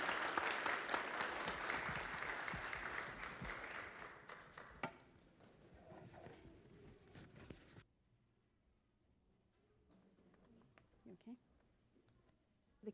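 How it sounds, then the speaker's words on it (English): An audience at a December Christmas church gathering applauds after children join in a song. The clapping starts strong and dense, then thins and fades after a few seconds, leaving sparse taps and a nearby voice. "So one more round of applause."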